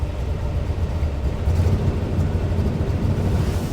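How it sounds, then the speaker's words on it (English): A truck engine with a bad misfire runs steadily close by, a low uneven rumble with a rough, lumpy pulse and no one talking over it. "I've got a really bad miss again"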